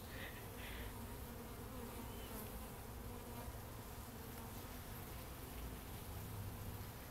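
Honey bees buzz in a steady, continuous drone during a beehive inspection, a dense hum that holds evenly from start to finish with no talking.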